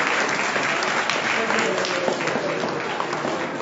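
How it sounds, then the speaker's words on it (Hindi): An audience at a parents' seminar breaks into loud, sustained applause, a thick wash of clapping that stays level throughout while a voice carries on over it. "जोरदार तालियां बजाइए।"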